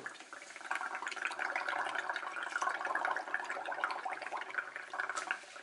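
Air is blown through a straw into a bowl of soapy bubble mixture, producing a steady bubbling, gurgling froth that lasts several seconds and swells and eases close by, with no talking.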